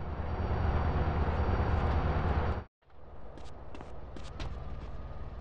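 A train in the video game GTA San Andreas roars past with a loud, dense rumble that cuts off abruptly midway, followed by quieter background noise with scattered clicks.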